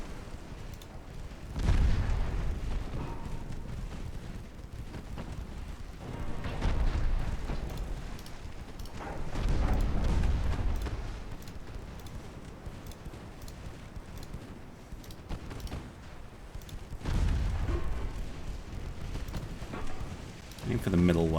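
Torpedo hits and deep booming explosions in a British naval campaign game, several heavy low blasts rolling out at intervals amid continuous battle rumble, with someone talking over the action.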